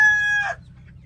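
A rooster in an ecological chicken coop gives a short, loud, close crow-like call that fades within half a second, leaving quiet background; no one speaks.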